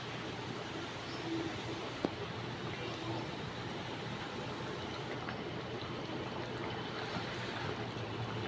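Bengali shukto, a mixed vegetable curry finished with a little ghee, simmering in a pot with a steady, even bubbling hiss that holds at a constant low level throughout.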